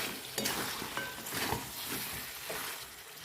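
Chicken stir-fried in a pan for Bengali chicken kosha sizzles at moderate volume, with a soft constant hiss and occasional stirring knocks, no voices.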